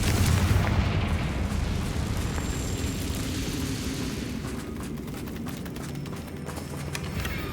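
The Confringo spell explosion in Hogwarts Legacy: a loud, dense rumbling blast that starts strong and trails into a sustained crackling roar with scattered sharp impacts.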